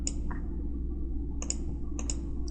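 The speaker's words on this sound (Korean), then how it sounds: "라이트 클릭" Computer mouse clicks during CAD software modeling, a few crisp close clicks, some in quick pairs, over a steady low hum of room noise.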